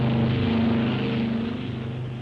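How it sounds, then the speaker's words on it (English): A WWII bomber's engines roar steadily during a takeoff from a short runway, a loud continuous propeller drone with a strong low hum, heard alone. "Colonel Jimmy Doolittle had trained his men diligently in the technique of taking off in a bomber on a short runway."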